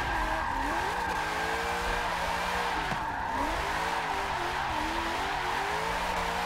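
Race car in Forza 7 drifting, a loud continuous tire skid screeching over the engine, whose note wavers and dips as the throttle is worked through the slide, no talking.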